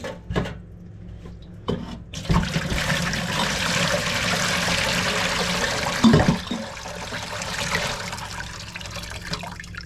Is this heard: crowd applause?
no